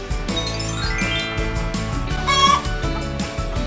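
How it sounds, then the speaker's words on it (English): Hen clucking in short, close calls over a busy musical backing with bright jingling tones throughout. "This is a hen. She lays eggs."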